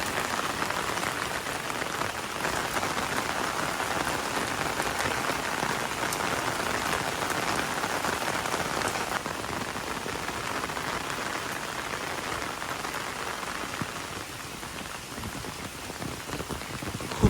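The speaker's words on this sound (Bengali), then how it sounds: "বিকাল থেকে বৃষ্টি আজকে হচ্ছে" Steady rain falling on an afternoon, neither light nor heavy, a continuous close hiss of drops on surfaces that holds evenly throughout with no voices.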